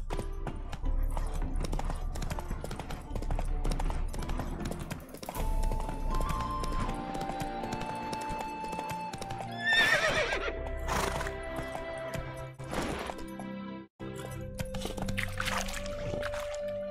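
Horse in The Witcher 3 whinnying loudly, with rhythmic hoofbeats clip-clopping beneath, set against game music and ambient tones, close and prominent, with no talking.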